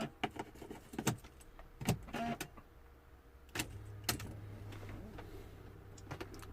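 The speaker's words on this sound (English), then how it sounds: "Let me cycle the ignition." Key and ignition clicks sound in a Mercedes CLK W209 as the ignition is cycled. Several sharp metallic clicks and jangles are spaced irregularly, and a low steady hum of the electrics settles in partway through.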